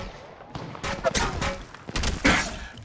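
Gunfire in the battle royale mobile game Apex Legends Mobile: bursts of rapid shots and impacts over about three seconds, loud and close, with peaks near the middle and end, over a busy game mix with in-game voice callouts.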